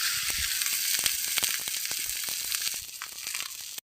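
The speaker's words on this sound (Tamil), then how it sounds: "அதை இந்த தோசைக்கல்லில் போட்டு எடுத்துக்கலாம்." Millet adai dosa sizzling and frying on a dosa griddle, a steady, close crackle of hot oil with small pops throughout and no talking.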